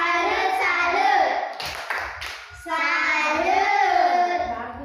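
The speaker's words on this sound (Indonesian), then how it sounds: "Tepuk salut dulu" Classroom of children clapping a rhythmic salute cheer in unison, hand claps mixed with young voices chanting along, with a brief dip in the middle before the clapping and chanting resume.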